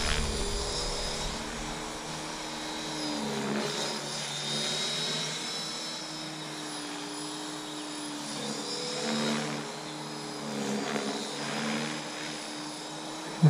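A T-Rex 500 radio-controlled helicopter flies with a steady, whining rotor and motor drone that rises and falls slightly in pitch, holding a fairly even level throughout with no talk.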